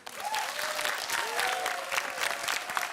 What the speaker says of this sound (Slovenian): En lep aplavz pa tudi lepo prosim za Prekmurke